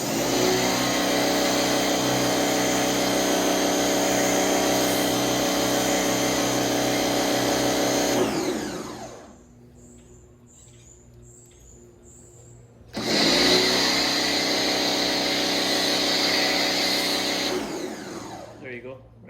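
An electric pressure washer runs loud and steady while spraying through an MJJC Foam Cannon Pro, cuts out for several seconds to a quiet gap, then starts up again strongly.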